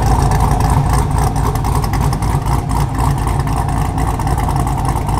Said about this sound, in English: I just did a test rev to see if this thing would whine.